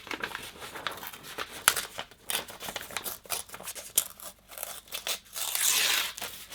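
Laser-printed paper is torn by hand in a series of short, close rips and crinkles, irregular bursts separated by brief pauses, with no talking.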